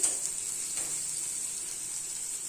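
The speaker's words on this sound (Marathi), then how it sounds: "कोथिंबीर टाकूया। चांगले परतून घेऊया।" Paneer bhurji with coriander sautéing in a pan gives off a steady, even sizzle with a bright hiss that holds throughout, close up and with no voices.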